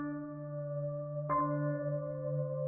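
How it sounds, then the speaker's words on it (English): A sustained synth key chord from Analog Labs holds steadily, with a second chord struck partway through, clean and moderately loud on its own. "Next, I'm going to come into Analog Labs and grab a bit of like a synth key."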